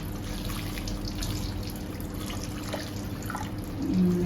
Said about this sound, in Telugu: తర్వాత వాటర్ వేద్దాం ఒక గ్లాస్ నీళ్ళు వేసేయి